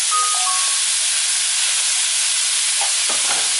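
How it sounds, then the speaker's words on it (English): Ground meatloaf mix of beef, pork and veal sautés in a pan with a steady, close hissing sizzle throughout, a few faint clinks of a utensil near the end. "the meatloaf mix is basically beef, pork, and veal. So I'm gonna add that in. And we're gonna saute this"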